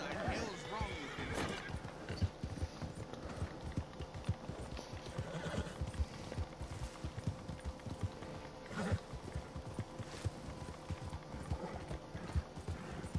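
In a video game, a horse's hooves clip-clop in a steady galloping rhythm, close and clear, with a sharp neigh breaking through and voices talking over it.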